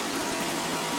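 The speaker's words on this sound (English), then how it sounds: "The water returns from the overflow here" Water pouring from overflow pipes into the sump of a reef aquarium built from two 150-gallon Rubbermaid troughs, a continuous close rushing splash with no pauses.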